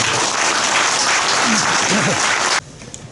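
An audience at a Korean gathering claps loudly and continuously for CEO Park Kang-won, dense crowd applause that cuts off abruptly near the end, with a brief voice murmuring underneath partway through.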